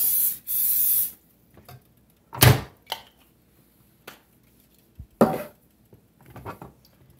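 Several short hissing bursts of cooking oil spray from a can onto a waffle maker, each about a second or less, separated by quiet gaps and faint clatter.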